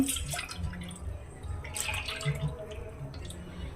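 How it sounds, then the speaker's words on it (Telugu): Strained milk and jaggery mixture for junnu pours into a steel bowl, a steady close trickle with soft dripping and splashing throughout, with no talking. "ఈ వడగొట్టుకున్న దాన్ని నేను ఈ స్టీల్ బౌల్లో వేస్తున్నాను."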